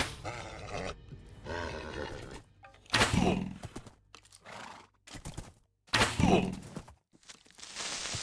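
A horse in the video game Wonderland.jar lets out two loud, shrill whinnies a few seconds apart, mixed with other game noises and thuds.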